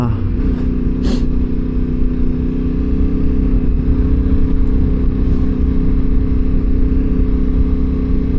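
Yamaha Tenere adventure motorcycle ridden off-road, its engine giving a steady, loud drone throughout with a brief sharp noise near the start, heard under a rider's talking.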